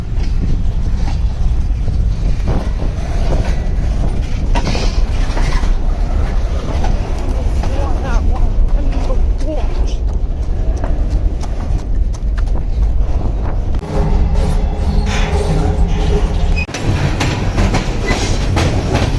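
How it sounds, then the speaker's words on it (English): A short freight train rolls along with loud, steady clickety-clack of wheels over rail joints and rumbling car noise, heard close up from aboard the train, with some voice faintly underneath. "This train started moving, so I'm going to try to get on it."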